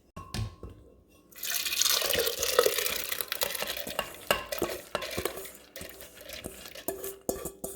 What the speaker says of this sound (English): I'm going to drain the excess water because you want to grind with less water